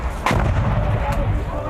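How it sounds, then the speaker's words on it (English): A mortar round exploding danger close during a firefight with Taliban fighters, a single heavy, sharp blast followed by a deep rumbling roll that lingers, loud and near. "be aware those mortars are danger close"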